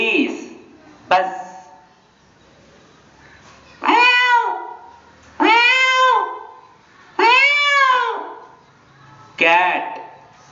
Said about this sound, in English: Cat, meows.